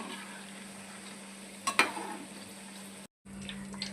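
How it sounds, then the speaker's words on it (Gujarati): Okra frying in a pan with spices and salt gives off a faint, steady sizzle close by, with a brief stirring scrape partway through and a moment of silence near the end. "એસી ટકા કૂક થાય ત્યાં સુધી આપણે આને તળવાનો છે"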